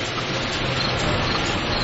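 Steady, dense rain hiss fills the whole moment, constant and even, with no voices.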